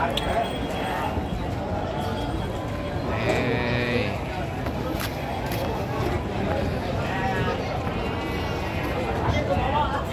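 Sheep bleating at Tanjung Sari livestock market in Sumedang, several short bleats rising over a noisy crowd while someone talks nearby.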